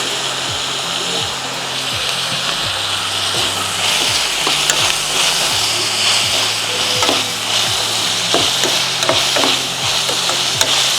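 Onion, garlic, ginger and green chilies sautéing in a pan, a loud close sizzle broken by frequent spoon scrapes and clicks, steady throughout with no talking.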